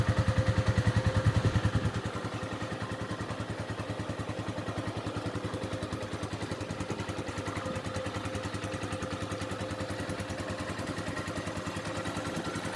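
A new motorcycle being run in idles steadily with a fast, even putter, close by and constant throughout, a bit louder in the first couple of seconds.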